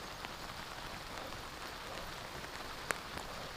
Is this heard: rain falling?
yes